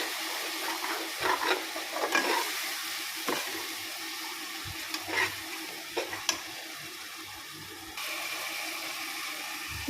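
A mint, coriander and green chilli paste sautés in a pot for a one-pot chicken biryani, with a soft sizzle and intermittent stirring scrapes and clunks of a spoon against the pot.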